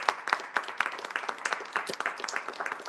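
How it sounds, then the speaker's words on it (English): An audience claps for Nylo the robot after its keynote at the GLOTECH tech conference, individual claps distinct and fairly close, a quick irregular patter of separate hand strikes at moderate volume. "So let's do a round of applause for Nylo."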